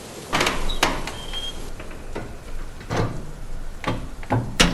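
A door is pushed open in a dark room during a Bengali crime-thriller audio drama, heard as a few short creaks and knocks spread across the clip with a faint whine, no voices.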